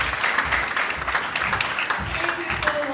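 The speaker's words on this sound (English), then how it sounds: "Can you please give them a round of applause once again?" Audience applause at a teen innovators competition event honoring finalists, steady dense clapping throughout with a voice and faint tones underneath.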